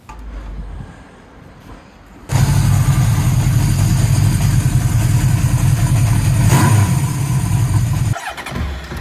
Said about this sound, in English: it had a massive 4-cylinder engine that was silky smooth